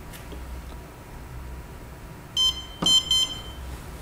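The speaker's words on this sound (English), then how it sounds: "press and hold the pair button until the lock beeps" Wyze smart lock giving a short series of high electronic beeps during pairing: one brief beep followed by a quick double beep, close and clear in an otherwise quiet room.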